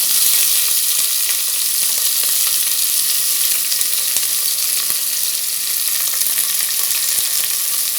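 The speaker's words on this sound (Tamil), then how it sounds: "வெங்காயம் போட்டு உப்பு கொஞ்சம் போட்டு வதக்கிக்கலாம்" Onions with a little salt sautéing in a pan for a Tamil idli chicken kuzhambu, a loud, steady sizzle and crackle running evenly throughout with no voices.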